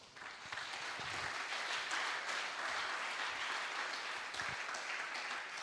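A church congregation applauding during a sermon about the word of God produces a sustained wash of clapping from many hands that rises quickly and holds steady for several seconds, with no talking.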